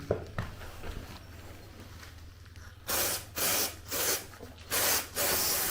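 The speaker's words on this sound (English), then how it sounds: "Spray." Several short hissing bursts of contact adhesive spray in an even rhythm, fitting sisal carpet, following a stretch of quiet room noise and low hum.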